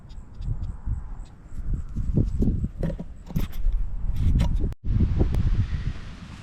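Strong wind gusts across an open outdoor site, with rustling and rumbling microphone buffeting throughout, close and fairly loud, with scattered thumps and handling noises.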